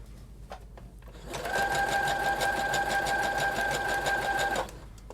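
A sewing machine runs a steady zigzag stitch over elastic on a lace face mask, its rapid rhythmic whirring and needle clatter starting after a few quiet handling sounds and stopping abruptly near the end.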